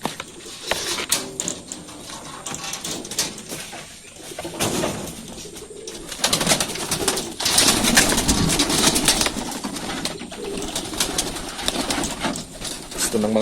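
Pigeons coo in a coop during cleaning, with soft repeated calls and rustling scattered through a busy background and occasional clatter, fairly close.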